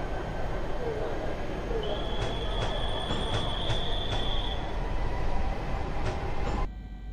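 Inside a long passenger train on an extra run to Zutphen, a steady rumble of rolling wheels fills the carriage, with a sustained squeal and several brief metallic ticks over the top before the noise drops near the end.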